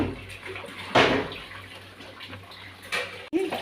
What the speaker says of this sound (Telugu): ఇవి ఇట్లా జాలి దానిలోకి తీసుకుంటే నీళ్ళు వాడిపోతాయండి